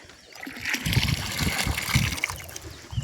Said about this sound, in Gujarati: આ આપણે વરસાદ થાય ત્યાં સુધી આ કુંડા બધા આપણે ભરવાના છે